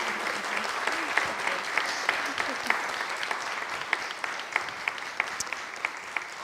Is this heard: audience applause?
yes